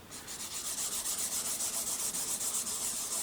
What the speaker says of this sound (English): make sure that you rub it with your fingers